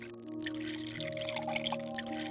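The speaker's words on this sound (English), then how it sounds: "Then fill the remaining flask with distilled water exactly to a 1 liter mark." Distilled water is poured into a glass volumetric flask in a lab, a steady close trickle running for about two seconds with a faint hum underneath.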